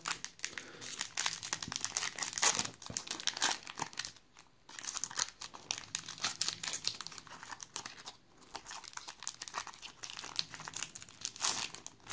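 Someone opens the wrapper of a Magic: The Gathering booster pack, making close, crisp crinkling and crackling in uneven bursts with brief pauses.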